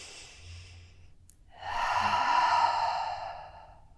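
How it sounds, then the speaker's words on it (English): Deep breath during a vinyasa flow yoga session, a soft drawn-in inhale followed by a long, loud, airy exhale close to the microphone, with no talking. "We can take one more nice big inhale."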